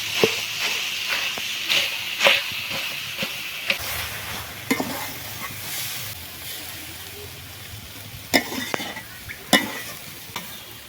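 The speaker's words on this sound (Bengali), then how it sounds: "এই গ্লাসে পেছন দিয়ে ভালোভাবে ঘেটে দেবো" Sizzling pan with a series of irregular knocks and scrapes as potatoes are mashed with the bottom of a glass, several sharp clacks standing out.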